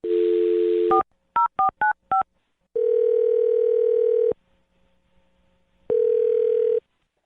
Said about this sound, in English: it is the perfect time to dial the phone number